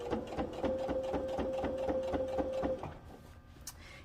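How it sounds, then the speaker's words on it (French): A sewing machine runs steadily for close to three seconds, topstitching a tote bag with a rapid, even mechanical rhythm, then stops, leaving a few faint handling sounds. "je peux continuer ma surpiqûre"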